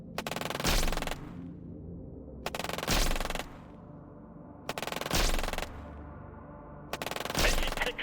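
Four separate bursts of rapid machine-gun fire ring out from a strategy war game, each a sharp rattling volley of about a second, separated by short quiet gaps.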